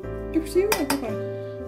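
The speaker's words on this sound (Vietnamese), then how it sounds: "Mình quậy cái nước mắm này cho nó hòa, đường nó hòa tan, nó tan đều." A spoon stirs Phu Quoc fish sauce and sugar in a bowl, making a quick cluster of clinks and scrapes against a steady low background hum.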